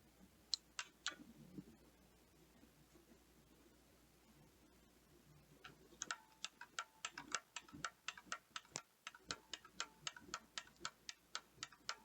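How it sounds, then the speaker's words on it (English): A Juki CF081E cut tape feeder's sprocket gear clicking as tape is pushed, a few sharp ticks early, then a steady run of evenly spaced crisp clicks, close and quiet with no talking. "Continue pushing the tape for 2 sprocket gear clicks."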